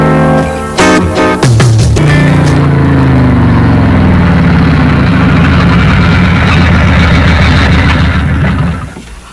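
A motorcycle engine idles loudly and close by, starting with a few sharp sputters before settling into a steady, dense rumble that tapers off near the end.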